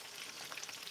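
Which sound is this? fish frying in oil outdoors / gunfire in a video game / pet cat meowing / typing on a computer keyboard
fish frying in oil outdoors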